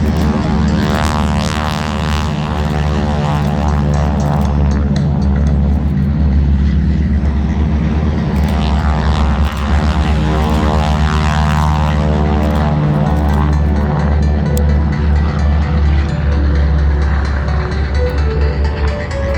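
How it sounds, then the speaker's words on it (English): The Aeroshell aerobatic team's 600 hp R1340 radial aircraft engines run up together at an airshow, producing a loud, steady, throbbing propeller roar that continues without a break and is heard close by. "as they run up those 600 horsepower R1340 radial engines of the Aeroshell Aerobatic team"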